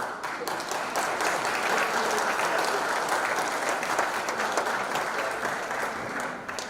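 Sustained, dense applause from a crowd at a city athletic all-star awards ceremony, steady and loud throughout, tapering slightly at the end.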